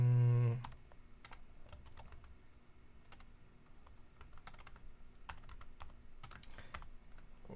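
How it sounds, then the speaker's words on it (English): Fingers typing on a German-layout computer keyboard, a quick run of light clicky keystrokes in irregular bursts after a brief louder sound at the start, close and quiet with no talking. "I hate German keyboards."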